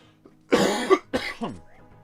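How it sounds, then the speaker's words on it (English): Two or three harsh, close coughs from someone with seasonal allergies, in quick succession and loud, then trailing off into quiet room noise. "My allergies are starting, so I got a little bit of a cough."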